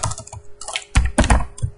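Quick bursts of typing on a computer keyboard, close and clear, with irregular clusters of clacking keystrokes and short pauses between them, no voices.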